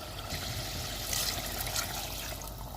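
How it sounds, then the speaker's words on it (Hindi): A glass of water pours steadily into a pot of cooking chicken handi, a continuous rushing splash at moderate volume, close by, with no voices. "अब इसमें हम 1 गिलास पानी डालेंगे"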